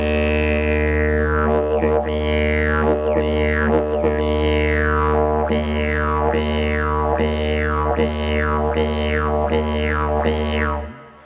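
A didgeridoo plays a steady low drone with rhythmic rising whoops, about ten regular pulses imitating a big red kangaroo hopping along; loud and close, played alone with no talking.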